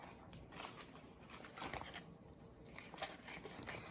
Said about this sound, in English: So I have this coffee filter here, and you're going to start on the outside edge, and you're going to cut all the way to the middle.